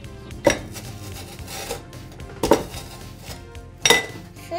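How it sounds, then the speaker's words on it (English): A big mixing bowl is handled for baking chocolate zucchini bread, giving three sharp clanks of kitchenware at spaced intervals, fairly close, over a quiet room with no talk. "First, you have to get your bowl. It's really big."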